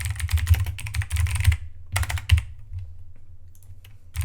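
Fast clattering keystrokes as code is typed on a computer keyboard, two close bursts of rapid clicking separated by a short pause, with no talking over it.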